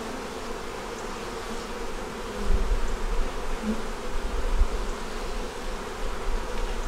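Honey bees hum steadily inside a double deep eight-frame hive of brood, pollen and honey stores, a dense continuous buzz at close range with a few brief louder swells and no voices.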